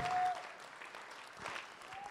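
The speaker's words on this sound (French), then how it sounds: "on applaudit Jésus" A French-speaking church congregation claps during worship, a soft, fairly distant patter of many hands that stays low and even, with a faint tone at the start.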